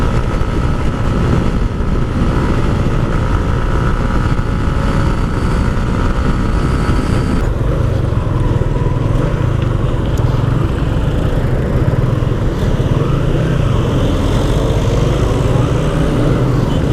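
A Yamaha Sniper 150 Monster Energy Edition motorcycle running at top speed, its engine droning loud and steady under heavy rushing wind noise, with a slight shift in tone partway through.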